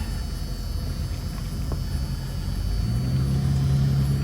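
A 1973 AMC Hornet, just cold-started after vacuum repairs, drives around the block, its engine rumbling steadily and loudly up close, rising slightly in pitch near the end, with no talk.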